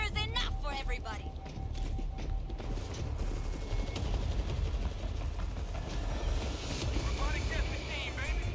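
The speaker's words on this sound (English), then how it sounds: "Putting down a 50 cal turret." A deployed .50 cal turret fires in World War Z during a New York zombie fight, with rapid, continuous heavy bursts mixed with other game gunfire and effects, and a voice speaking over parts of it.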